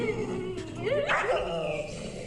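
A small dog being held and calmed, whimpering and yipping in a series of rising, wavering whines at close range, with no speech over it.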